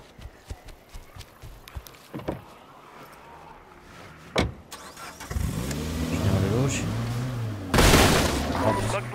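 Car engine in State of Decay 2 turning over and catching, sharp clicks and thumps leading into a rising, rough idle that swells loudly near the end, with someone speaking Italian under the game noise.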